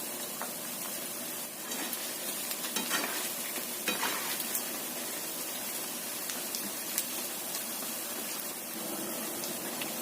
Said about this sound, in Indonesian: Goreng sampai kuning keemasan, semuanya wajar aja gorengnya.